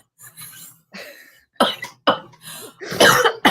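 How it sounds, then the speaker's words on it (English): Several sharp, loud coughs burst out in a ragged series, with short breathy pauses between them, close up. "When I really start to laugh, I start to cough."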